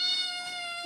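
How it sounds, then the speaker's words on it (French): A small kitten gives a single short, high meow, close and clear against a quiet room. "Bon, c'est un adorable petit chat."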